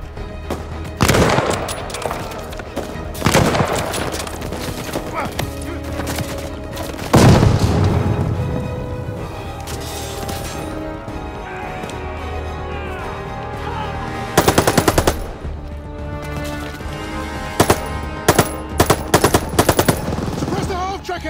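Gunfire in Call of Duty: Vanguard on PC during the Operation Tonga mission, loud bursts of rapid automatic fire and single heavy shots over a constant battle din, with sharp clusters of shots near the end.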